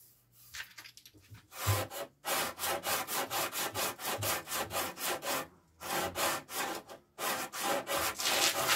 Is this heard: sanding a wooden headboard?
yes